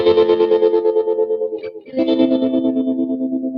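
Electric guitar played through harmonizer and distortion effects on a song, sustained chorded voicings ringing loud and close, a brief pause, then a new chord with a lower bass line added.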